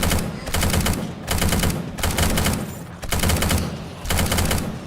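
Machine gun in the video game 7 Days to Die with the Undead Legacy mod, firing loud rapid bursts in four long volleys separated by brief pauses.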